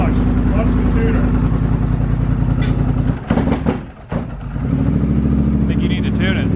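A 2020 Polaris Sportsman 850 HighLifter ATV fitted with a Big Gun EVO U exhaust idles with a loud, close rumble, then revs sharply in a throttle burst midway before settling back to idle, with people talking over it.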